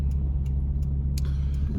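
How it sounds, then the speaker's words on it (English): Cars pass on a busy road in Tsujido, Japan, heard as a steady low rumble of traffic with a few brief swishes of passing vehicles. Fairly close, with no talk. "there's a few cars coming past"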